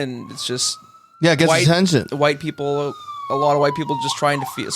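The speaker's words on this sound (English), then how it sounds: "Sorry about the siren" Emergency siren wailing with a long rising and falling tone, loud and close, running under a conversation between several people.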